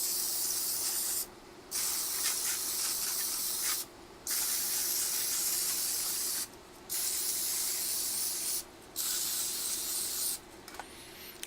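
Cooking spray hisses onto a donut pan for baked chocolate donuts in several long, steady bursts, each lasting a couple of seconds with short pauses between, close and fairly loud.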